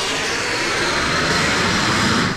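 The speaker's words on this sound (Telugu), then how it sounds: "విమానం వెళ్ళిపోతుంది" A fixed-wing airplane flies off with a steady, loud jet engine roar that swells slightly toward the end, heard alone without any talk.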